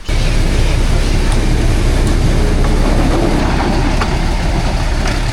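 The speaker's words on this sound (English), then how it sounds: "So that's the train? Yeah. I think that's the train." A train rolls past near the trail to Aguas Calientes, Peru, on the Salkantay trek: a loud, steady rumble and roar that fills the whole stretch, with faint metallic clatter over it and no talk.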